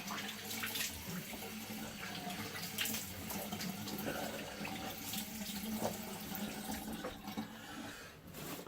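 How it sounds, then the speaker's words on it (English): Cold tap water runs steadily into a bathroom sink while someone splashes and washes their face, with a continuous close-up hiss of flowing water and uneven splashing throughout. "I'll wash up my face here with some cold water."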